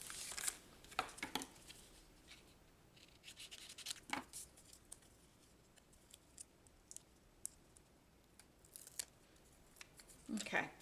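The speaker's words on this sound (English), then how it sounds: "I'm going to cut a piece of it off." Scissors snip adhesive strips for a handmade birthday card, giving a few sharp, close clicks and cuts at intervals over a quiet room background.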